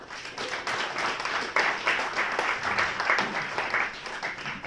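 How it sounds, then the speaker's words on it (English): Audience applause at a data visualization lightning awards meetup, a steady wash of clapping with sharper individual claps popping out, moderately loud throughout with a possible voice mixed in. "One last round of applause,"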